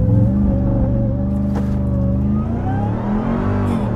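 A 2021 Ram 1500 TRX pickup's engine roars close up during a launch-control start, revving hard and climbing in pitch as the truck accelerates, with a deep rumbling tone throughout.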